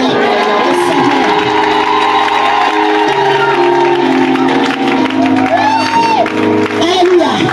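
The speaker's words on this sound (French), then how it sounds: "Est-ce que quelqu'un peut donner une bonne foi et une acclamation au Seigneur?" A church congregation cheers and acclaims the Lord, with loud shouts, whoops and clapping from the crowd swelling over sustained organ or keyboard chords and a voice carrying through the noise.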